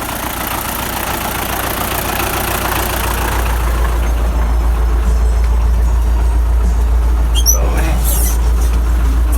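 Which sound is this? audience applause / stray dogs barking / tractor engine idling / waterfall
tractor engine idling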